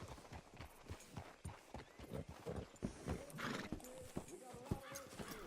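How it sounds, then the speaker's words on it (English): A horse in the Red Dead Redemption 2 video game clip-clops along in a steady walking rhythm, then gives a whinny, with the hoofbeats close and clear and someone speaking briefly over them. "Hitch your horse up here."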